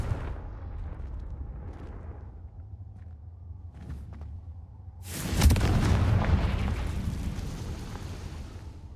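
A Confringo fire spell blast in Hogwarts Legacy, a sudden loud roaring burst partway through that fades into a long rumbling tail, after a quieter stretch with low ambient hum.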